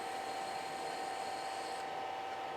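A Hardinge DSMA lathe facing off a part, giving a steady, loud whirring machining tone with a sustained high whine and constant spindle hum throughout.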